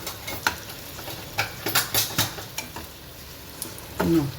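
Mustard seeds dropped into hot oil in a pan give scattered sharp pops and crackles with a faint sizzle, plus a few stirring scrapes and a clink near the end.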